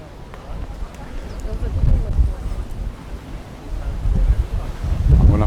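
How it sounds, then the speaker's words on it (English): Strong wind gusting across a seaside promenade in Palmanova, Mallorca, buffeting the microphone in loud, surging rumbles that rise and fall, with a voice speaking between gusts. "It's very breezy."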